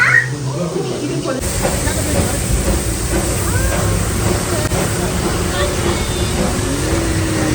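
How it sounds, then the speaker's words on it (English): The Darjeeling narrow-gauge toy train rumbles and rattles along with steady hissing and clatter, a continuous mechanical roar with occasional squeals over it. "This is Darjeeling toy train"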